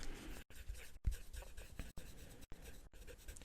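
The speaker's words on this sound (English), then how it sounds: "let me just write a couple of more things down" Pen scratching notes onto paper in a quiet, close setting, with steady strokes broken by a few brief pauses and light taps; no talking.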